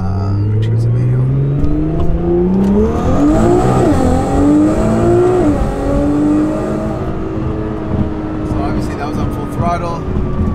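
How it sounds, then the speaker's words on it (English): Nissan GT-R R35 with a Titan Street Performer exhaust and catless downpipes, manual, pulling hard through the gears. Its loud engine note climbs steadily, shifts, then settles into a steady drone, fairly subdued for an aftermarket exhaust, under quiet talk. "So you can see it's relatively a quiet exhaust"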